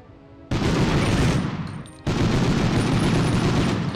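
Heavy gunfire in the World War II shooter Medal of Honor, during the mission to sabotage the Rjukan hydro plant. Loud, dense shots roar in two sustained bursts with a brief lull between them.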